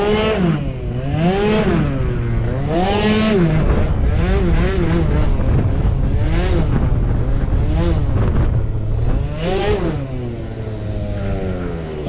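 A tuned car engine idles and revs while still cold, its loud, wavering note rising and falling in repeated swells, close and unbroken, with no voices over it.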